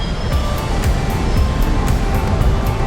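Fountains splash steadily in Trafalgar Square, a dense, continuous wash of falling water with faint city traffic blended underneath and no pauses.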